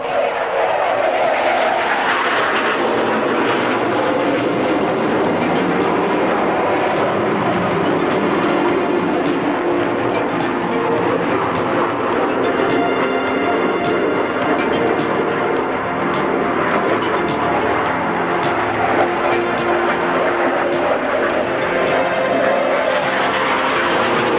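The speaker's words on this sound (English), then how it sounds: "To your left now, Pipper's coming by at 450 knots and will go into a left-hand 6G turn." A navy jet fighter streaks past at 450 knots at the 1986 NAS Moffett air show: a loud, sustained broadband roar that fills the whole stretch, with crowd noise beneath it.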